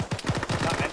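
A rapid burst of video game gunfire, about eight close sharp shots in under a second, fired in quick automatic succession.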